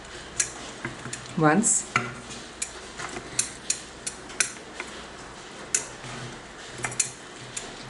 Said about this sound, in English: I will use a wooden ladle to mix it up